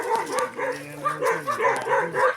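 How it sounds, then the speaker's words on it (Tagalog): Several dogs bark and yip in quick bursts, close by, with short whimpering cries between the barks. "Maraming aso dito."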